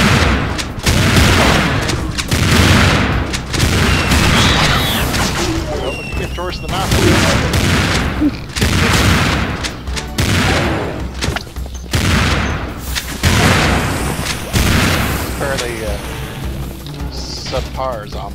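Repeated shotgun blasts in the video game Serious Sam 2 co-op, loud bursts firing every second or so across the stretch, mixed with game explosions and people talking over the gunfire.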